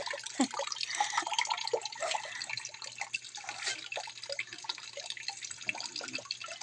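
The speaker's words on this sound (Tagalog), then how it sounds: "Sobrang hina ng tulo. Lalo na kanina, halos patak-patak lang guys." A water tap drips slowly and weakly at night while water is being collected, faint irregular drops and trickles splashing into a container, quiet and close, with no talking.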